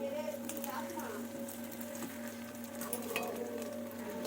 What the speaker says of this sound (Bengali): সোয়াবিন কিন্তু দুবারে ভাজবো